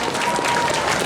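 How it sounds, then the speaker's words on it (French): Steady applause from an audience at a cosplay contest awards ceremony at Mangalaxy 2022, a dense wash of clapping that holds evenly for about a second. "On l'applaudit."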